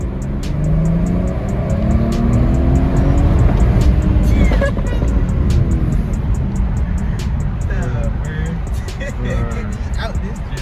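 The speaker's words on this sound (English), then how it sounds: "This is a stock exhaust, bro." A Mopar 340 car with a stock exhaust accelerating, a loud, close, rising engine drone with shifting harmonics under people talking in traffic.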